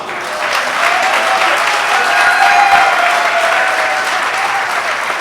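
Audience at a Hindi comedy poetry show breaks into loud, steady applause, a dense wash of clapping that holds evenly throughout.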